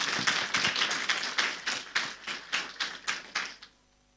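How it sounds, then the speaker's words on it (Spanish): A church congregation at a Sunday service applauds the choir in a run of soft, slightly distant, group clapping that pulses in waves and then stops abruptly near the end, with no voices over it. "Un aplauso más, por favor,"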